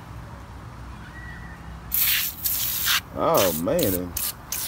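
Gunk engine cleaner, a foaming aerosol, sprays onto an engine bay in several loud hissing bursts with short pauses between them, while someone talks briefly over the middle bursts.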